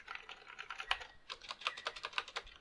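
Keys clatter at a steady, quick pace on a Cherry MY-8000 keyboard with Cherry MY switches, giving soft, close clicks and clacks with one sharper knock, quiet overall and with no voice.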